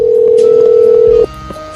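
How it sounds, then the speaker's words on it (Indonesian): A loud, steady telephone dial tone sounds on a call being placed, holding an even pitch for just over a second before cutting off, followed by faint line noise and a brief tone. "Gue telepon Bu Yuki dulu ya."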